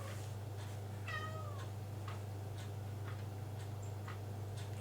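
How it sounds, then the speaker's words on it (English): A cat gives a single clear meow, then softer faint mews, against a steady low electrical hum and quiet ticking. "Here we got cat noises."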